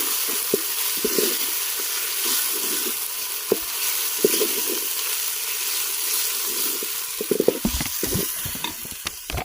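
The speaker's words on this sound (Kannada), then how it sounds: "ಸಣ್ಣ ಕಟ್ ಮಾಡಿ ಇಟ್ಕೊಂಡಿರೋ ಈರುಳ್ಳಿ ಹಾಕ್ತಾ ಇದ್ದೀವಿ" Chopped onions sizzle steadily in a hot pan, with intermittent scraping and clacking as they are stirred, growing busier toward the end.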